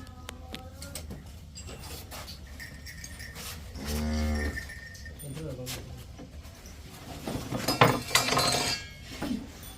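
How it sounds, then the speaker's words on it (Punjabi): On a farm with two cows and a buffalo, a bovine lets out a deep drawn-out moo midway, close and clear, amid people talking, light clinking and general yard noise. "ਦੋ ਗਾਵਾਂ ਤੇ ਇੱਕ ਮੱਝ"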